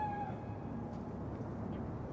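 A cat meows inside the video game Cyberpunk 2077, the cry short and faint and soon lost in a steady low ambient rumble, with no voices.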